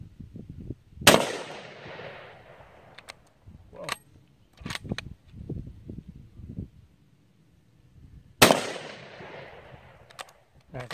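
Two sharp, loud rifle shots from a Rigby Highland Stalker fired at pumpkins outdoors, one early and one near the end, each with a quick decaying tail, with quieter handling noises and movement between them.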